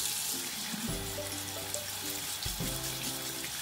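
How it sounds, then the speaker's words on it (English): A watercolor brush being rinsed under a running tap, water splashing steadily into a sink for a few seconds with brief changes in the flow, near and clear, no voices. "Rinse it off."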